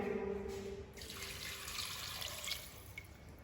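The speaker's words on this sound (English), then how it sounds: "You add the water again into it" Water runs from a tap onto chicken bones to re-wet them for remouillage stock, a soft, steady splashing flow with light drips, close and quiet.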